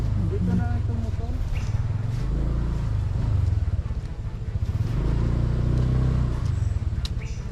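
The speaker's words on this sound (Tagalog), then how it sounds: "Dito na itong motor." A motorcycle engine runs steadily nearby with a low, continuous rumble that swells slightly in the middle, set in a busy outdoor scene with voices and other activity mixed in.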